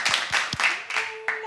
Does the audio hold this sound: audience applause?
yes